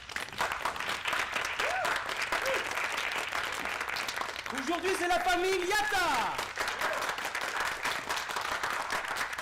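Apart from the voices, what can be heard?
audience applause on game show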